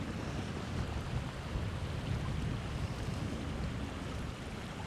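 Wind blowing hard across a muddy river during fly fishing, a steady loud rushing roar with buffeting against the microphone and no pauses.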